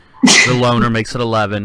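A single sharp, loud sneeze bursts out near the mic, followed immediately by someone talking.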